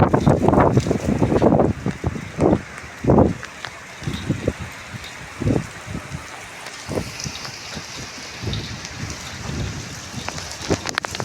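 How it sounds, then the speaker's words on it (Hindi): Heavy monsoon rain pelts down amid strong gusting wind, with bursts of loud buffeting against the microphone throughout. "आप जो बारिश का प्रेशर देखे, ये देखे यार कितनी हवा चल रही है।"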